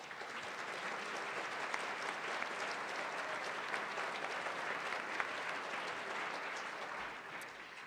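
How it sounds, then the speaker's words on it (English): A civic forum audience gives a steady, sustained round of applause for the sponsors, dense clapping throughout that holds even, then tapers slightly at the end. "Please join me in a warm round of applause for all of them"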